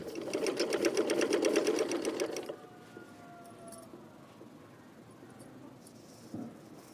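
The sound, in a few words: sewing machine stitching a printed yoke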